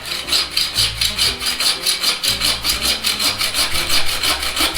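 A hand saw rasps back and forth through a Christmas tree trunk in a steady rhythm of strokes, close and continuous, with no voices.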